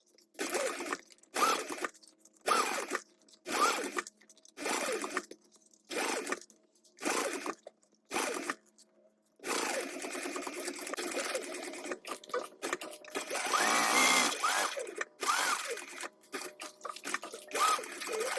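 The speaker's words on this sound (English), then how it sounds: "top stitch 1/8 of an inch away from the fold" A sewing machine top stitching near a fold at long stitch length runs in a series of short bursts with pauses between, then whirs continuously for a long stretch, mechanical and close.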